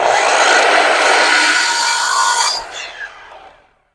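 A miter saw cuts a baseboard piece with a loud, close, steady whine of blade through wood for about two and a half seconds, then the motor spins down and fades to silence.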